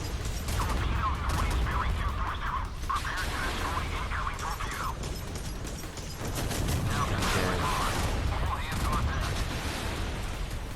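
Rapid naval gunfire from the British frigate HMS Glasgow in a video game, sustained bursts of fast automatic firing with mechanical clatter, loud and continuous across the whole stretch.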